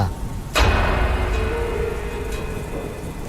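Heavy night rain pours down steadily while a sharp thunderclap cracks nearby and rolls away under the constant downpour.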